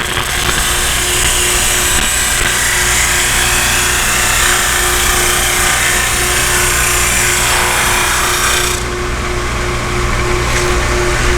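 A 16-32 drum sander drones loudly and steadily as a piece of wood is fed through for another pass on its original side, a continuous mechanical whine with constant hum, shifting in tone near the end as the board exits.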